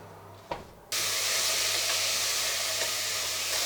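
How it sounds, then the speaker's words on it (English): Onion and garlic dropped into a hot pan to toast, after a brief clink. A loud, steady sizzle bursts up and holds without pause, close and hissing. "then I'm going to put the onion and the garlic in and then toast it"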